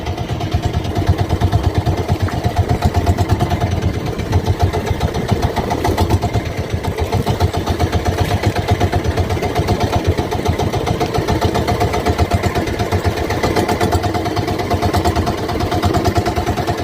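A boat engine drones steadily throughout, running at sea off the West Philippines amid big waves, with a loud, constant mechanical rumble and no break.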